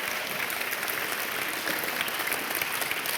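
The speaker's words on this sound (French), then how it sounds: "On peut l'applaudir très fort également." Dense, steady applause from an audience at a mentoring-month launch ceremony, filling the room evenly for a few seconds with no talk over it.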